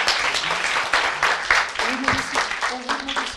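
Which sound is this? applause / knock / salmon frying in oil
applause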